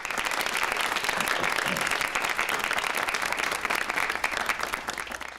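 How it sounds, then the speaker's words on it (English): Steady, full applause from a crowd at a town hall, given for student leaders, with dense continuous clapping and faint voices beneath it, easing slightly toward the end. "So let's give it a round of applause for your student leaders here."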